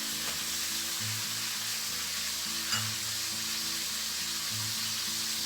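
A pork steak browned on both sides, frying in a pan as a soft, even sizzle that is faint but constant, under a low rhythmic hum, with no talking.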